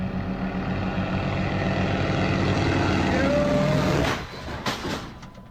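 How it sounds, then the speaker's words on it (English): Propeller planes flying in low over a field, a loud continuous droning roar that fades after about four seconds, leaving a few rustles and knocks. "we got some planes coming in. In a field, oh no."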